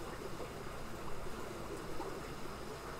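Water from an aquarium's automatic water change system trickles and rushes steadily, a soft, continuous stream-like wash at low volume without speech.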